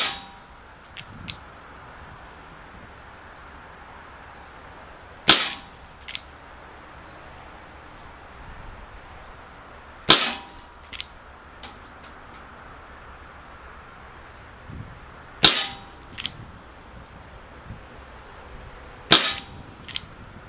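Sharp, snappy shots from an ASG Dan Wesson 715 six-inch airsoft BB revolver ring out outdoors, spaced about five seconds apart, each crack followed by a few faint echoes or pellet impacts.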